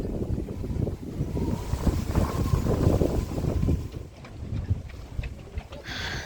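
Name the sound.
wind blowing around a boat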